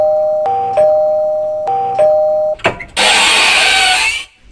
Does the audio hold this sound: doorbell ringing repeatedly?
yes